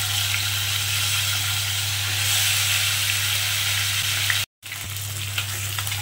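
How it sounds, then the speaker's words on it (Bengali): Katla fish pieces fry in hot oil with a loud, steady, dense sizzle close by, continuous for several seconds apart from a brief dropout near the end, and no talk. "আমি প্রথমে মাছগুলোকে এরকমভাবে লাল লাল করে একটু ভেজে নিলাম।"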